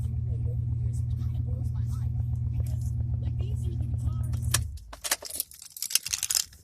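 An old Dodge engine idles low and steady after a cold start, heard close for several seconds before it cuts off, followed by keys jangling and someone speaking.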